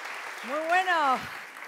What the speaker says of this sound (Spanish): Un aplauso para Marc Coloma